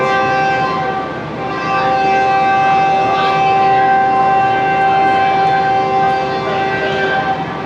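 Powerful horn of a departing Pakistan Railways GU40 diesel locomotive, number 9027, leading the Shalimar Express at Rahim Yar Khan station, sounding as one long sustained multi-tone blast that holds for nearly eight seconds, loud and close.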